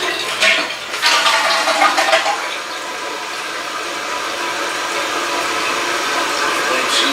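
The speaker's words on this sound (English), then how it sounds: "We'll just want to flush it here to make sure the chain doesn't get hung up and the flapper valve's working correctly." A newly installed toilet being flushed in a bathroom remodel, with a loud gushing rush at first that settles into a steady hiss of the tank refilling, heard close.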